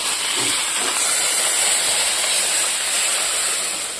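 Fried fish poured with its hot oil into a simmering fish curry: a loud, continuous, bright sizzling hiss that holds steady and close for several seconds, with no talking.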